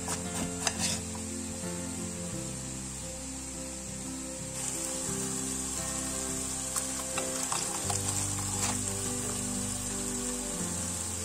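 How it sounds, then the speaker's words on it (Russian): Vegetables frying in a pan for fish meatball and rice soup give a continuous close sizzle with a few light clinks of stirring. No one speaks. "Овощи обжарились до мягкости"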